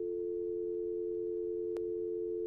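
Steady telephone dial tone from a video game on a haunted PS1 demo disc, heard after a call ends; one continuous hum holds on alone, with a brief click partway through.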